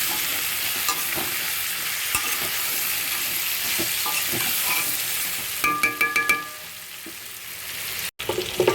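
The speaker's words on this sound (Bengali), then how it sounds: "1 চামচ হলুদ আর 1 চামচ নুন আমি দিয়ে দেবো এর মধ্যে, দিয়ে ভালো করে ভাজবো।" Prawns fry with turmeric and salt in a wok for basil-spinach (puisak) chochhori, giving a steady close sizzle broken by scraping stirs, then a run of sharp clacking knocks midway and a brief cut near the end.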